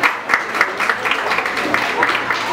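Audience applause for Salvadoran designer Gladys Pleites rolls on at a steady, moderate level with scattered sharper claps, and a voice may be speaking over it.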